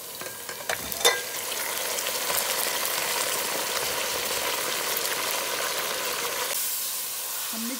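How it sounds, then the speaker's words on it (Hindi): About a kilogram of chicken pieces sizzles in a pan with garlic-ginger paste for haleem, giving a steady close hiss and crackle with a few stirring knocks early on. "यहाँ हमारी चिकन भून रही है"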